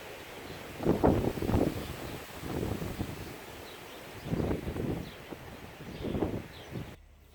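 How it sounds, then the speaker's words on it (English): Gusts of strong wind buffet through a garden in uneven surges, roaring against the microphone and then easing between bursts. "The wind has been blowing like crazy."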